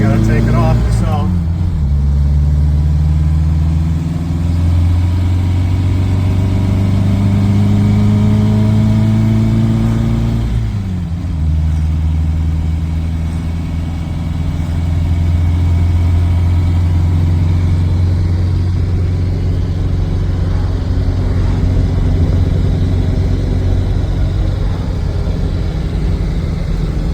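A Buick Regal driving through a turn, its engine note climbing, dropping back as the gearbox is shifted into neutral and then second, and climbing again, loud and steady throughout with a constant low drone underneath.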